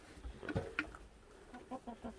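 Backyard chickens cluck softly in short, scattered bursts, faint and nearby, with light rustling between calls.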